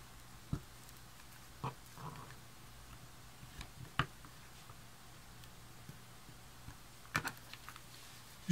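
A tool pierces holes through book covers pressed against an eraser, making a few scattered, faint clicks and soft presses at irregular intervals, with quiet room noise between them.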